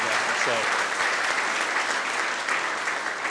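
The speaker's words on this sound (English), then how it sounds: "Gretchen deserves another round of applause for a great job" An audience at a community meeting on a Nickel Plate Trail construction plan gives a round of applause, steady even clapping throughout with a voice briefly heard near the start.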